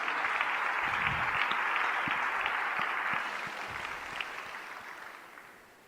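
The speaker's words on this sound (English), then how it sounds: "I think we should give Thailand a round of applause for these achievements" An audience at a business forum opening ceremony claps in a sustained round of applause, dense and even at first, then thinning and fading away over several seconds with no talk.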